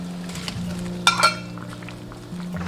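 Tofu drops into a pot of simmering sauce seasoned with salt, white pepper, shacha paste, soy sauce and oyster oil, giving a brief clatter of utensil and pan against a steady low cooking hum, with no talk.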